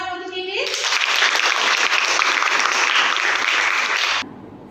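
Applause from a lecture audience during a teaching session, a sustained wash of clapping that starts after a brief spoken phrase and runs steadily for several seconds before cutting off.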